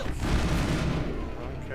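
A barrage of gunfire in the Mass Effect video game, a dense burst of loud booming shots up close, with a voice mixed in.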